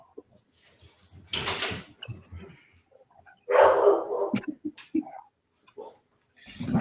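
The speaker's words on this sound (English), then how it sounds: "Gotta let the dogs in." Dogs bark in scattered bursts at a rural home east of Albuquerque, some sharp and close, others fainter, separated by stretches of near silence.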